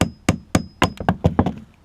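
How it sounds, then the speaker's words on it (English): A regular hammer taps sharply on a tab of a Jeep Cherokee power steering pump, about nine close, distinct knocks in an uneven rhythm, with no talk. "take a regular hammer and just tap on that, slide it down"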